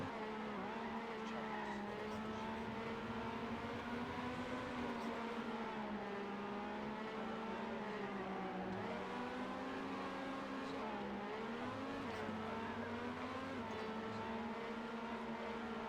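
Race cars in an Airven racing video game, engines droning and revving continuously with tire squeal and skidding as they jostle for position, loud and steady throughout, without any speech.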